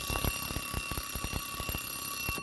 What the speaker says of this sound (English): It's a travel alarm clock.